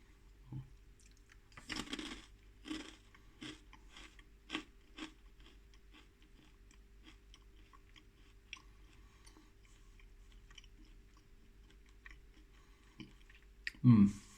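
Kameda Seika rice cracker being chewed close up: a run of soft, crunchy bites early on that fades into quiet mouth sounds, then a brief louder crunch at the end.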